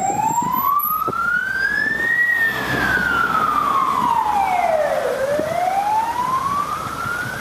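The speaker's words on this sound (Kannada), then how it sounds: "ಗೌಡ್ರೆ, ಯಾಕೆ ಆಂಬುಲೆನ್ಸ್ ಬಂದಿದ್ದು?" A loud wailing siren of an ambulance sweeps slowly up and down in pitch, close by, over a background of passing traffic.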